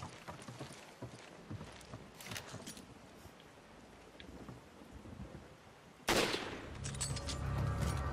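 Gunfire in Resident Evil 5 co-op play: scattered sharp shots and impacts over a busy game soundscape, then a loud, dense burst of firing and rumbling action near the end.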